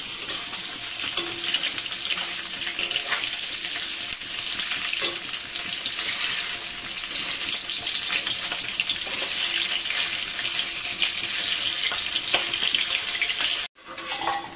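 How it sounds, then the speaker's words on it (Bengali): Pieces of rohu fish fry steadily in a pan with a continuous loud crackling sizzle, occasional sputters as they are flipped one by one, and a brief break near the end. "এখন আমি মাছগুলোকে উল্টাবো"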